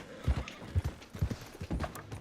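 Horse hooves in a video game clop steadily at a walking pace in evenly spaced pairs of thuds, close and fairly loud, with no speech over them.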